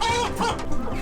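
A creole rooster clucks and squawks close by in a short burst of harsh, rapid calls, loud and alone without speech.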